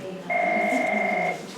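A classroom telephone gives a single steady electronic ring lasting about a second, clear and close, with faint room noise around it.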